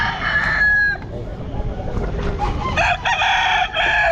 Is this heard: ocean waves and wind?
no